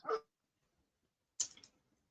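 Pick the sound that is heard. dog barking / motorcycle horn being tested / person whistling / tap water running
dog barking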